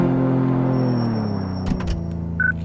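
Car engine in Car Mechanic Simulator, droning with a van-like tone on a test track, loud and steady, then easing down in pitch as the car brakes, with a few soft knocks near the end.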